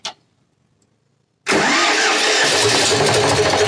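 An Eicher 485 tractor with a white smoke and hard starting problem: after a brief click and a second of silence, the diesel engine suddenly catches and runs loudly and roughly at a steady close-up idle.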